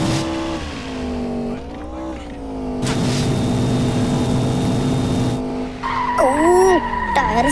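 A car with nitro boost skids loudly with sustained tire squeal in the game Indian Theft Auto, engine tones rising and falling and sharp revving chirps near the end.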